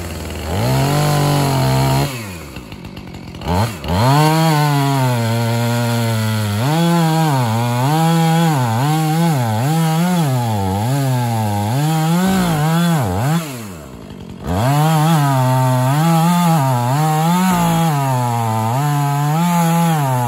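A chainsaw cuts down a gum tree, roaring loud and close. The engine drops out briefly twice, then rises and bogs in repeated rhythmic waves as the blade works through the wood.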